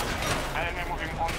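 A P90 fires a fast, steady burst in the video game Battlefield 2042, a close, continuous rattle heard under someone talking.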